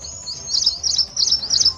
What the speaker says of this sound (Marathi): मधूनच प्राणी पक्ष्यांचा कानी पडणारा आवाज